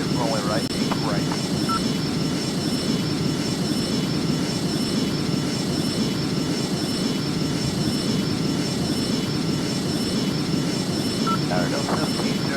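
An airplane engine drones steadily on a runway at takeoff in rain, a loud continuous roar throughout, under faint radio chatter from air traffic control.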